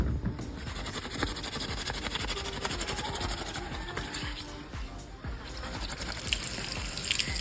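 Tap water runs steadily into a sink to rinse off heavy ink left by a multi-purpose cleaner, a continuous close splashing hiss with a few small knocks and clatters.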